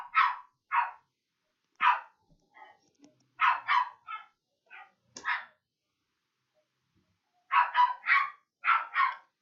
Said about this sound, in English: it's not my dog. It's my neighbor's dog.